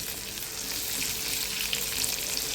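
Fish frying in a pan of oil, a steady dense sizzle and crackle heard up close throughout, with no voices.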